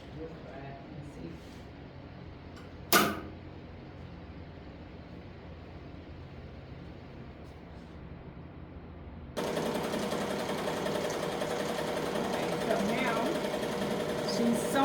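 A Melco EM16X embroidery machine stitches a sweatshirt with a steady, close mechanical whir and rapid needle chatter. A sharp knock comes early, and the running sound grows louder and fuller partway through.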